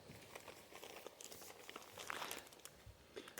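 A small plastic bag holding a giveaway rain poncho crinkles close by, with irregular bursts of rustling and crackling that are quiet and steady throughout.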